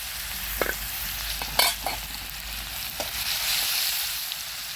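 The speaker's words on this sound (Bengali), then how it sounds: "মাছ ভাজা তেল আছে, এখানে পেঁয়াজগুলো দিয়ে দিলাম।" Onions fry in oil left over from frying pangas fish, giving a continuous sizzle close to the mic. A few sharp clinks and scrapes of stirring come through on top, and no one speaks.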